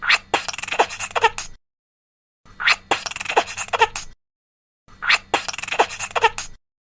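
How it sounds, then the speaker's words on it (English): A squirrel chatters in three separate bursts of rapid, raspy chirps, each lasting about a second and a half with short silent gaps between them, close and clear. "That's right! It's a squirrel."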